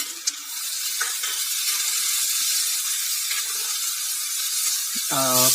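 Roughly chopped tomato hits a hot sautéing pan and sizzles in a steady, bright hiss that continues throughout, with a brief voice speaking at the very end.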